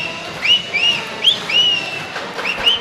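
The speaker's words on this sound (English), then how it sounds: "And I think that's the loudest I've heard Dan whistle" A referee's whistle sounds at a high school boys' basketball game: a series of short, rising tweets over steady crowd and gym ambience.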